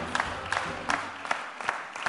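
An audience claps and cheers for visiting Kempo martial arts federation guests on a studio show, a dense crowd applause with regular sharper clap peaks running throughout.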